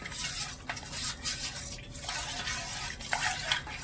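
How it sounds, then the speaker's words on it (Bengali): Cornflour being stirred into cold milk with a spoon, the gas still unlit for a watermelon dessert; steady scraping and clinking against the pot runs throughout, close and fairly loud, with no talking. "আমি নেড়ে চেড়ে ভালো করে মিশিয়ে নেব।"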